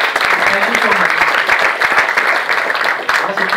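Audience applause at a business meeting in Mumbai, loud and sustained clapping from a large crowd in a hall, even and unbroken throughout.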